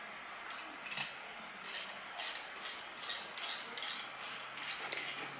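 Wrench tightening bolts on Boss air suspension airbag plates gives a series of short, rasping ratchet strokes in an even rhythm, close up and fairly quiet, with no talking.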